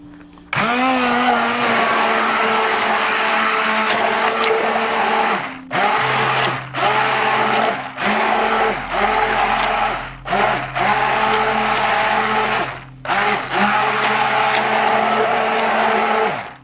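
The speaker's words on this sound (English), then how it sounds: "We'll hit it with a stick blender. I'm going to bring this to trace now." Stick blender mixing strawberry soap batter toward trace, loud whirring bursts switched on and off repeatedly, each run lasting a second or two with short pauses between, alone without talk.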